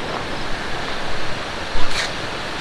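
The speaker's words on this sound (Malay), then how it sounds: "Korang boleh dengar air terjun dia." Titi Kerawang waterfall, on a road near Teluk Bahang at night, makes a steady, close rush of falling water with occasional wind buffeting the microphone.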